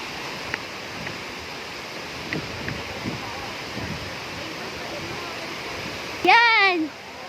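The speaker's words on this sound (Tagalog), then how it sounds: "So, ipakita ko sa inyo ang Seven Falls." Seven Falls at Lake Sebu rushes with a steady broadband roar throughout, and a person speaks briefly near the end over the falling water.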